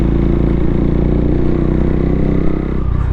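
A motorcycle being ridden gives a loud, steady engine drone with pulsing low harmonics that eases off near the end, heard close with wind noise and no talk.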